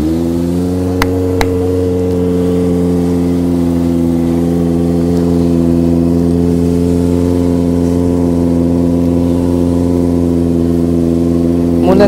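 Kawasaki ZX25R motorcycle engine running loud and steady, holding a high, even rev with strong harmonic whine for the whole stretch, a brief blip early on, during a group ride.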